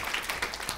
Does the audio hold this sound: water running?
no